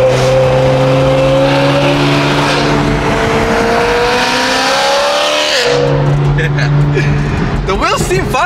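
A BMW M3 CS on new BBS wheels drives along with a loud engine drone and rising gear pulls, tire and road noise underneath, while people talk inside the cabin.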